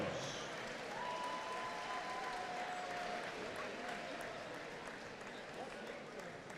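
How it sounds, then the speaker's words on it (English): A gym crowd at a boys' all-star basketball game in Fargo, North Dakota claps steadily throughout, with a public-address voice ringing over it near the start. "a round of applause, please, for the Class A All-Stars"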